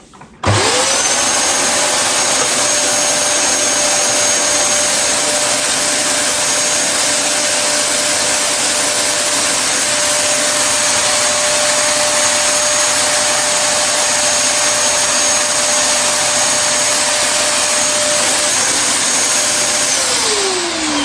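A Dyson DC33 multi floor vacuum cleaner with its brush roll not spinning runs loud and steady at close range, a constant whine and rush of air that starts abruptly and stops near the end.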